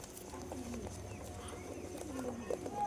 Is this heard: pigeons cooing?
yes